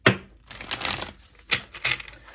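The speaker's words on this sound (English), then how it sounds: "One more last shuffle for Aquarius." A deck of tarot cards is shuffled up close in a few quick, papery riffling bursts separated by short pauses, with no speech.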